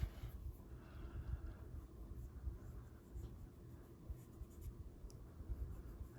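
Pastel being smoothed across textured paper with soft, continuous rubbing strokes, quiet and close, forming a faint scratchy friction that rises and falls.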